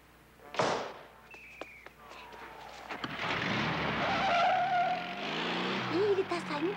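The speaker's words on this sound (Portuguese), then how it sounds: "ele tá saindo com o carro" A car pulls away with a sharp tire squeal and rising engine noise after a brief thud, set in a dramatic film scene with voices talking before and over it.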